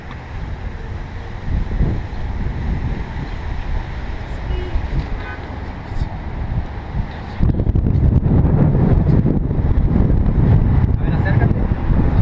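Steady wind blows outdoors and buffets the microphone in a continuous low rumble that grows noticeably stronger and rougher partway through, with no clear voices over it.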